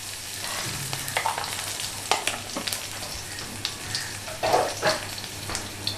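Nigella seeds and green chilies temper in hot oil left from frying fish, giving a steady close sizzle and crackle with occasional scraping clinks from stirring in the pan.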